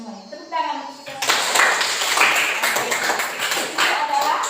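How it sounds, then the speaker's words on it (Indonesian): Schoolchildren clap their hands together in a classroom, a burst of dense, overlapping claps that starts after a short moment of quieter sound and keeps going steadily, with young voices mixed in. "Tepuk tangan untuk kita."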